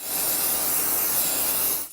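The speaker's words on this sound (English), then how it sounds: "It's time to spray away." Liquid sprays in one long continuous hiss onto a bed sheet, loud and close, with no talking.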